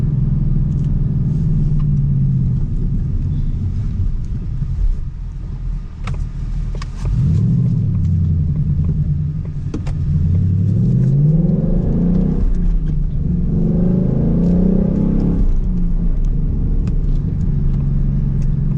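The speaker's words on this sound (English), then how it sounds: "why is your car so loud?" A loud Roush Mustang engine rumbles deeply throughout, with rising revs and gear shifts as it drives through a residential area, heard from inside or close by.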